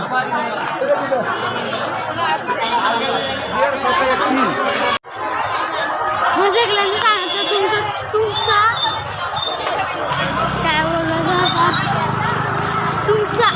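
A dense crowd throngs the Titwala urus village fair in 2025, with loud continuous chatter and many nearby voices, occasional knocks and hoof-like clops, and a brief dropout partway through.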